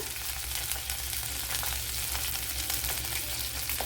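Fennel seeds and cardamom sizzle in a tablespoon of hot coconut oil, a steady, close crackling fry that keeps on without a break.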